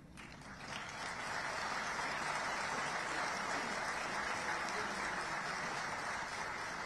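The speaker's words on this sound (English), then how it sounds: "I will appeal to the boys to clap more" Clapping from a hall full of students at a college Founders' Day event, starting softly, quickly building into a steady, fairly faint rattle of many hands that continues evenly, with no talk.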